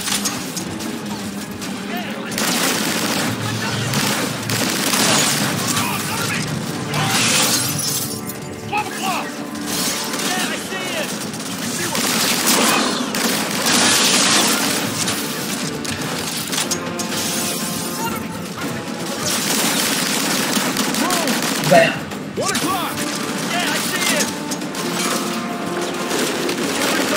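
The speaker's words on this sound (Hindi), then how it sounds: "बहुत हैवी फायरिंग है यार, बहुत ज्यादा हैवी फायरिंग" Dense, continuous gunfire with crashing and shattering impacts in the Call of Duty: Infinite Warfare campaign mission Operation Port Armor, loud and sustained throughout with brief peaks, a voice talking now and then underneath.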